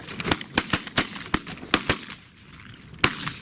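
Shotguns fire a rapid volley of about a dozen sharp, loud blasts during an opening-day duck hunt, several guns overlapping in quick uneven bursts with a short pause before a final shot.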